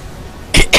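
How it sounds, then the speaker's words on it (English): Two quick, loud coughs come close together right at the end, after a near-quiet stretch. "Sorry, I'm coughing again."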